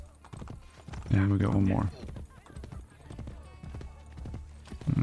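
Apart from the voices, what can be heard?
horse hooves galloping in Assassin's Creed Brotherhood video game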